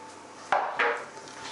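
Aubergine and red pepper being stirred in a pan for a curry, with two short scraping clatters of a utensil against the pan, close and fairly quiet.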